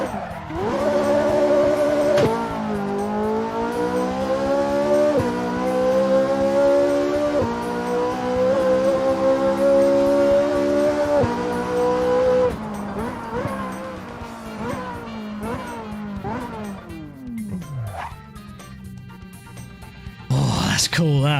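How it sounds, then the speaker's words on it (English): A race car in Assetto Corsa revs hard through its gears, its engine note climbing and snapping down at each upshift in a steady cycle, with tire noise late on and no one speaking. "Upshift sound is good"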